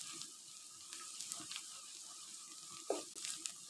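Garlic-ginger paste being stirred into spinach and mutton cooking in a pot, a soft low sizzle with faint scraping and stirring clatter, quiet and close.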